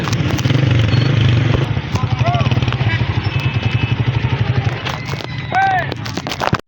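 A motorcycle engine runs close by at a parking spot near a market, its rumble steady at first and then settling into a rapid puttering idle while someone talks over it.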